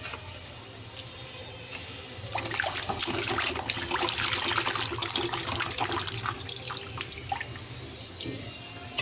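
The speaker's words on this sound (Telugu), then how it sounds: "మళ్ళీ వాటర్లో వేసుకొని అయితే 2-3 సార్లు క్లీన్ చేసుకోవాలండి." Raw chicken pieces are rinsed in a bowl of water at home before being made into spicy pakodi: close splashing and trickling that swells to busier sloshing in the middle, then eases off.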